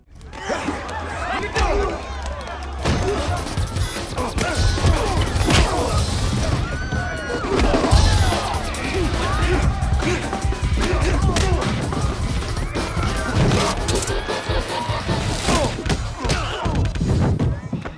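A fistfight brawl breaks out in a casino movie scene: dense thumps, smashes and scuffling blows pile up over the soundtrack, loud and busy throughout, with crowd chatter and shouting voices mixed in.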